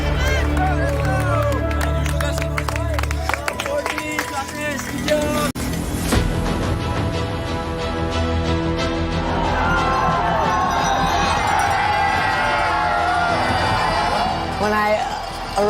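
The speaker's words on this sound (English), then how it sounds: "I can't believe all of these people are out here cheering." A crowd cheers and claps for runners at the UTMB Doi Inthanon trail race in Thailand, with a lively babble of voices and applause under loud music and close talking throughout.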